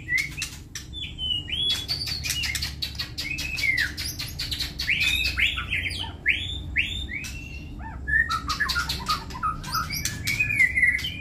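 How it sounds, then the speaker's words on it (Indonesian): Oriental magpie robin songbird singing up close, a steady run of varied whistles, trills and chirps for the whole stretch, with occasional wing flutters and no talking. "Ini yang di depan kita ini burung murai"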